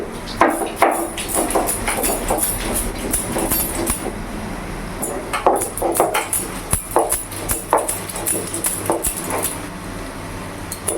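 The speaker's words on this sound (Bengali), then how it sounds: "শুধু আদা, কাঁচা লঙ্কা আর গোটা জিরে দিয়ে বেটে দেবো। এটা আমি শিলে বেটে নিই।" Ginger, green chili and whole cumin are crushed on a flat grinding stone, giving a steady run of knocking, scraping strokes that keep going with an uneven rhythm, close and moderately loud.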